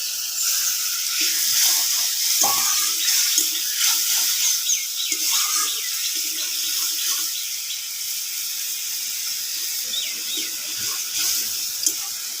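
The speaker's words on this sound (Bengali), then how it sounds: "আর একটু জল দিয়ে দিচ্ছি।" Water is poured into a cooking pan of frying spices for a soybean dhokar dalna. A loud, steady hissing sizzle and rush of liquid carries through the whole stretch.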